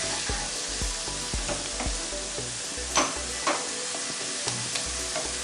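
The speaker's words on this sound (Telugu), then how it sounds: "జస్ట్ కలర్ చేంజ్ అయ్యేదాకా బాగా వేపుకుందామండి" A pan sizzles steadily with oil as ingredients for a chicken and spinach curry are fried and stirred, with close scrapes and clinks of a spoon breaking through the continuous hiss, with no voices.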